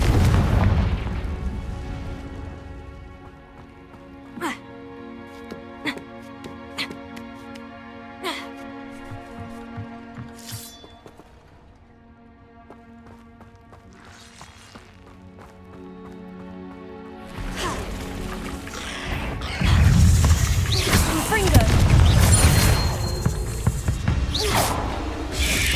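A Confringo spell explosion in Hogwarts Legacy lands as a deep boom with a swelling rush of fire and debris near the end, following quieter game music and scattered clicks.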